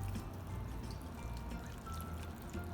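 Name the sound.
pouring liquid into cornbread dressing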